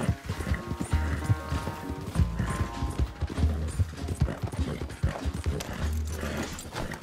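A horse gallops in Red Dead Redemption 2, its hooves pounding in a fast, repeated rhythm that stays close and steady, with soft game music and effects behind it.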